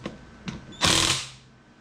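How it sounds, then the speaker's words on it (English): An impact tool tightens fasteners on a 1996 Honda Z50R motor during assembly: two faint taps, then one loud, close, buzzing burst that fades out. "We'll go ahead and impact her a little further down."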